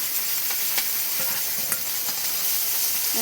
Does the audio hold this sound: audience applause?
no